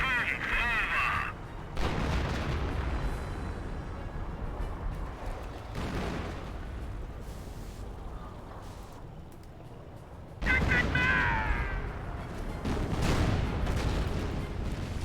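Battlefield gunfire and artillery in Company of Heroes, a dense wash of rattling shots with heavy booms swelling and fading across the scene, under spoken unit callouts.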